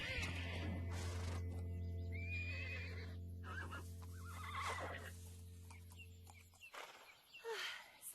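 A horse gives a long, loud whinny near the microphone, followed by hoof movement and clucking hens in a farmyard setting.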